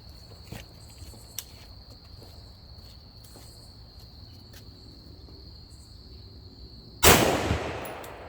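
A single loud gunshot rings out near its end, fired at a budget body armor target, after several seconds of quiet outdoor ambience with insects chirping and faint clanks.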